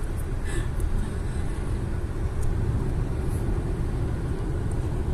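Steady road rumble from a car driving through thick fog on an English motorway between Boston and Birmingham, a continuous low-frequency drone with tyre and engine noise that holds level for the whole stretch, with no talking.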